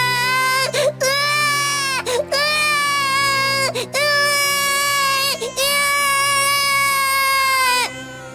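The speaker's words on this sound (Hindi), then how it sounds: "इनको एक बच्चे की रोने की आवाज सुनाई देती है।" An infant cries loudly in long wailing bursts, four drawn-out cries separated by short gasping breaths, close and alone with no talk, in a forest setting.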